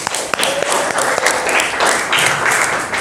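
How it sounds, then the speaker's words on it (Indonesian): Classroom applause from students in a school lesson, a burst of mixed clapping with a few sharp individual claps, steady and fairly close for a few seconds. "Tepuk tangan buat kita semua"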